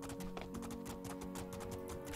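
A horse gallops in the video game Two Worlds II, with rapid rhythmic hoofbeats clip-clopping continuously under a dense bed of game music and ambience. The hooves are fairly faint and no one talks.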